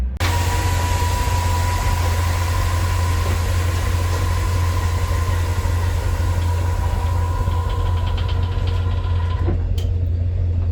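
A boat engine runs steadily on one motor while steering toward a dock, a loud, close, low rumbling drone with a constant tone on top, continuing unbroken for about ten seconds before a brief clatter near the end.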